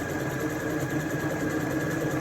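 A Janome M200 QDC sewing machine runs continuously, stitching a decorative leaf pattern with a fast, even mechanical whir and a steady tapping rhythm of the needle, heard alone at moderate volume.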